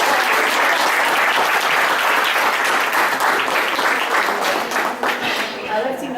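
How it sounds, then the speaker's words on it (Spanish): A large audience at a Latin American gathering bursts into sustained, dense applause, loud and close throughout, with a few voices mixed into the clapping as it slightly thins toward the end. "Aplausos, por favor."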